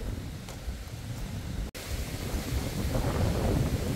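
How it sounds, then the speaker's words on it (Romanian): Strong stormy wind buffets the microphone at a cave monastery site, a steady loud roar of gusts with low rumbling, briefly cut out for an instant midway, no talk. "Bate vântul"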